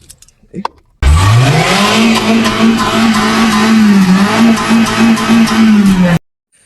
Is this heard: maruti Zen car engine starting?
yes